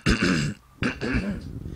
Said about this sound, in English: When I clear my throat, I sound exactly like my dad